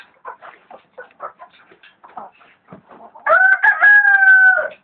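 Chickens cluck in short, scattered bursts close by, then a rooster lets out a long, loud crow that carries to the end.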